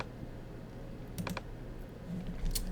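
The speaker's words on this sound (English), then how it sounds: "I'm just typing in a random number just so it's a little shorter" A few sparse keystrokes on a computer keyboard while entering a number in Anime Studio Pro animation software, soft isolated clicks over a quiet background hum, no talking.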